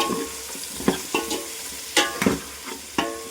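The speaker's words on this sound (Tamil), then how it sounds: "எண்ணெயிலே நல்லா வதக்கிக்கணும்" Chili powder being stirred and sautéed in hot oil for a tapioca and dried fish curry, with a soft steady sizzle broken by several sharp scraping strokes of a spoon against the pan, close and alone.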